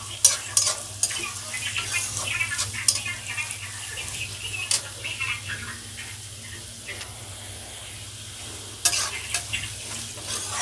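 Onions fry in a pan until golden brown for a chicken curry, giving a steady close sizzle with scattered crackles and occasional stirring scrapes beneath a faint background hum.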